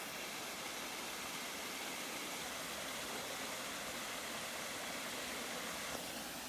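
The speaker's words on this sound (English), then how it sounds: "I guess this is the Sheep River." Sheep River in the Rockies flows nearby with a steady, broadband rushing hiss, constant and fairly faint, with no voices or other distinct sounds.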